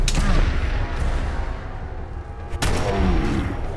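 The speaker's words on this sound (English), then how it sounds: "Why are you shooting at me?" A legendary gunner opens fire in Fallout 4, and loud, dense, sustained gunfire and booming impacts fill the moment, with a heavy blast near the end.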